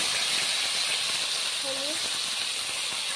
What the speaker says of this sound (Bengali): তেলটা গরম হয়ে গেছে, তেলের মধ্যে দিয়ে দিচ্ছি এই যে কুঁদরি আলু